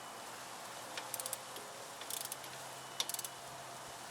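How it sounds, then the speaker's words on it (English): A torque wrench tightens a 17mm strut-tower-to-knuckle bolt on an old Nissan Sentra, giving a few faint, quick clusters of ratchet clicks against quiet background hiss. "Torque it down at 80 foot-pounds from the strut tower to the knuckle."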